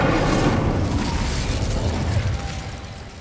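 Incendio fire spell cast in Hogwarts Legacy, a loud whooshing, roaring burst that fades slightly toward the end, with no speech.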